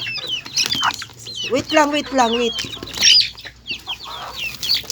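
Pet chickens cluck and squawk while being fed, scattered close calls in quick bursts with a short rising cackle, and a person speaks briefly among them.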